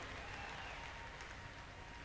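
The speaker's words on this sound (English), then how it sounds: "Let's give him a nice round of applause right here." Audience applause for a winner at the 1992 National Farm Machinery Show in Kentucky, a steady, dense wash of clapping from a crowd filling the whole stretch without talk.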